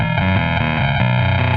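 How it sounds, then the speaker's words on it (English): An effects pedal with its frequency control being swept, giving a loud, continuous, distorted tone with shifting harmonics and a steady rhythmic pulse throughout. "I can sweep the frequency control, and that sounds cool in and of itself."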